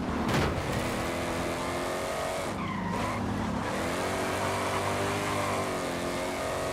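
A tuned car of about 530 horsepower in Forza Horizon 5 roars loudly and continuously as its engine revs, with tire squeal and a brief shift in pitch midway, no talking over it.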